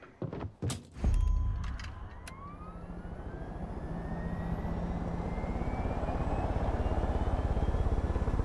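A helicopter in the video game Far Cry 5 starts with a few heavy thuds, then its engine settles into a loud, steady drone with a whine that slowly rises in pitch, with no voices.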